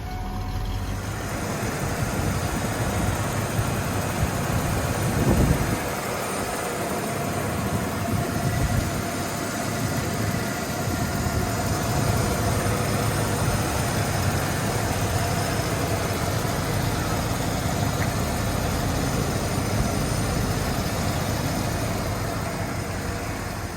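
A 1993 Ford Bronco engine idles for the whole stretch, a low continuous rumble with a faint mechanical whine on top and no voices.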